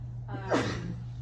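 A single short sneeze from a person in a church setting, one quick burst over a steady low hum of room noise.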